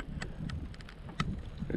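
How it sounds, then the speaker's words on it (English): A strong northeast wind gusting over 20 to 25 miles an hour at a wilderness canoe campsite gives a steady, low roar with buffeting against the microphone, under scattered knocks and rattles. "It's super windy today. Northeast winds, 20 miles an hour, 25, gusting to more than that."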